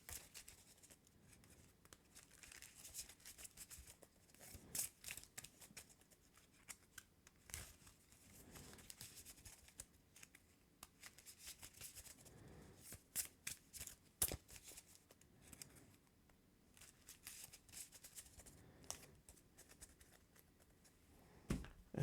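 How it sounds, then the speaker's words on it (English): Marvel Champions encounter cards are shuffled by hand, a long run of quick riffling and flicking bursts with brief pauses between, quiet and close, no talk. "Do some quick shuffling here."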